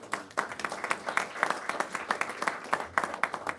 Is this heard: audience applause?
yes